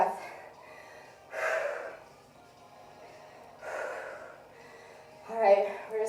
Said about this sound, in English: So out of breath.